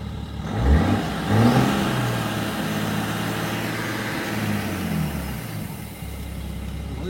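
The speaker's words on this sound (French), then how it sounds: "Le bruit de l'air qui se dissipe dans le vide" A BMW 335d diesel with a vacuum air leak idles close by, blipping up in revs twice early on and then settling slowly back to a steady, slightly unsettled idle drone with a faint airy hiss.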